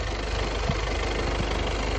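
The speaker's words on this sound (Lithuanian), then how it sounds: "variklis dirba ant laisvų apsukų labai gerai" A 2019 VW Passat 2.0 diesel engine, 110 kW with 191,000 km, idles with a steady, even rumble and faint rhythmic knock, close and continuous.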